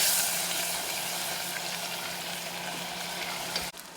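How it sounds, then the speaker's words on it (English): White wine splashed into a hot pan to deglaze it gives a loud, steady sizzle and crackle that holds for about four seconds, then drops off abruptly near the end. "Now we're going to add a splash of white wine. This is going to deglaze the bottom of our pan"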